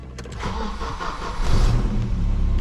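A Volvo car engine cranks over with a short whirring starter burst, then catches and settles into a loud, close, low rumbling idle.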